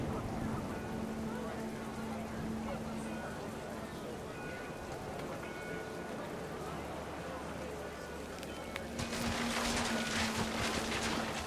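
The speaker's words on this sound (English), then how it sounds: "The rain came down in buckets then" Rain pours steadily in the video game What Remains of Edith Finch, a continuous hissing wash under a narrator's voice that grows louder and brighter near the end.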